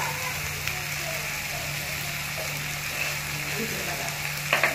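Masala sizzles and fries steadily in a pan for shev bhaji, a constant hiss with occasional stirring scrapes and a brief clatter near the end.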